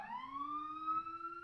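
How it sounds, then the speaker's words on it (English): A siren wails in the distance outside, one long steady rising tone with clear harmonics, moderately loud and alone with no voices over it. "there's a siren approaching"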